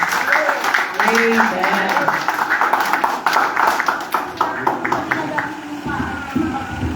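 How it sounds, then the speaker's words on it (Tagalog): A church congregation claps in praise during a worship service, scattered and rhythmic hand claps under loud speech, with someone saying a short response over them. "Isang malakas na palakpak para sa ating Diyos."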